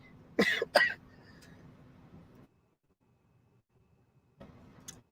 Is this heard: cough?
yes